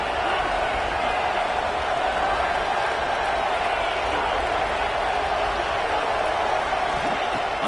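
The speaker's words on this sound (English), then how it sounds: "Listen to the crowd energy here in the early going." Stadium crowd at a college football game between Clemson and Oregon in a video game, a loud constant roar of many voices with no breaks.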